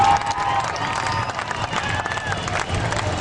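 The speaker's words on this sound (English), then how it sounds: "All right, give the number 69 a round of applause." Crowd at a county fair lawnmower race applauding and cheering, a broad wash of distant clapping and voices with engine whine and murmur mixed underneath.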